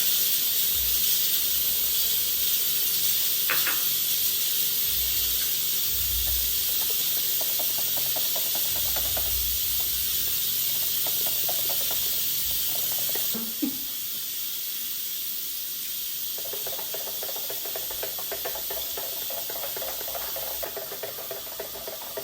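A pressure cooker of soup vents steam through a quick release, giving a loud, continuous close-up hiss that runs the whole time and eases slightly partway through.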